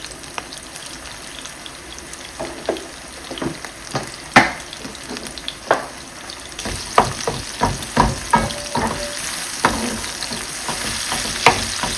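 Cumin seeds and dried chillies fry in hot oil for a bottle gourd tempering, giving a steady close sizzle broken by sharp crackles and pops that grow denser toward the end, with occasional stirring clatter and no talk.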